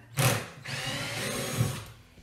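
A power screwdriver whirs steadily while backing screws out of the motor housing of a Ridgid shop vac, with a short spin-up and then a sustained buzzing run, close and fairly loud.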